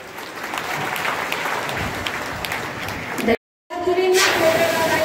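Loud, steady applause fills a student felicitation ceremony at a police-recruitment academy, breaks off sharply for a moment, then surges back with a voice speaking over the crowd.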